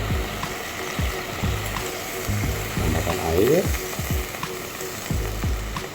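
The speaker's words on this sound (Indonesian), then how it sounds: "ketika sekarang kecapnya sudah mendidih dan dia sudah mulai berkurang sebagian, kita tambahkan air." Water is added to soy sauce boiling and reducing in a pan, giving a loud, steady sizzle and frying hiss with bubbling, with a brief rush of liquid partway through.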